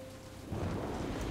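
Rain in Jurassic Park The Game pours down as a thunderstorm sets in, with a deep rumble of thunder swelling after a quieter start; dense, steady downpour with no voices.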